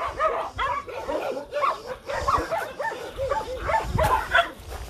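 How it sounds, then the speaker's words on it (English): Many dogs at an animal shelter bark and yip in a dense overlapping chorus, close and continuous, with some whimpering mixed in. "Everywhere you see happy dogs."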